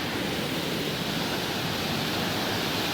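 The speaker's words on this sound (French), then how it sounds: "Une cascade énorme." A huge waterfall on New Zealand's Routeburn Track roars in a dense, unbroken wash of loud, close white noise with no voices over it.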